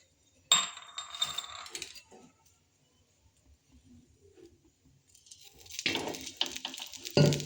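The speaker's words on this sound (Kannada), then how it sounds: "ಕಟ್ ಮಾಡಿದ ನಂತರ ಇದನ್ನು ಒಂದು ಹಂಚಿಗೆ ಹಾಕಿ ಹುರಿದ್ಕೊಳ್ಬೇಕು. ಸ್ವಲ್ಪ ಎಣ್ಣೆ ಹಾಕಿ ಹುರಿದ್ಕೊಳ್ಬೇಕು." Cut beans roasting in a pan with a little oil for beans palya, bursts of sizzling and utensil clatter at the start and end with a quiet gap between.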